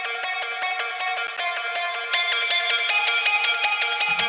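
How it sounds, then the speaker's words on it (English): Detuned square-wave synth lead with shifting wavetable timbre, for old school Schranz, pulses in a steady rhythmic run of bright buzzy notes, growing louder and brighter halfway through, with no talking. "it's a square wave with some detuning and wavetable movement"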